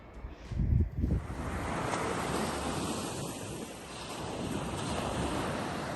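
Waves washing onto the shore at Hackley Bay near the Forvie Nature Reserve, a continuous broad rushing surf after a couple of brief close thumps at the start, with no voices.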